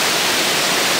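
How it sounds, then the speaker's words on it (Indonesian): Brunyao waterfall on the Tutuk river in Kapuas Hulu roars as a loud, dense, continuous rush of falling water filling the whole clip. "inilah air terjun Brunyao"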